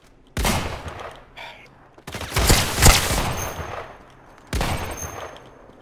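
Three heavy shotgun blasts in the Islands of Nyne battle royale shooter, each a sharp, loud boom with a short ringing tail, spaced roughly two seconds apart.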